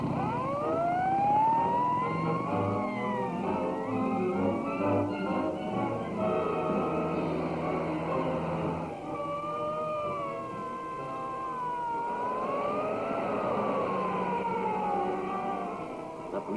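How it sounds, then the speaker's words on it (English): A police car siren wails continuously during a chase in a 1945 serial, its rising and falling tone loud and close, sweeping over a steady engine rumble throughout. "The police car's gaining on us."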